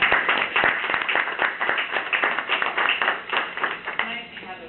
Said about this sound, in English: I would just want to give a big round of applause to the police and the fire department.